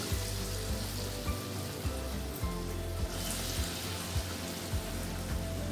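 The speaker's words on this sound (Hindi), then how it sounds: "अब हम केला में बेसन अच्छे से लगाएंगे और इसे गरम तेल में डालेंगे।" Raw banana slices coated in gram flour frying in hot oil, a steady dense sizzle and bubbling crackle that runs throughout at close range with no talking.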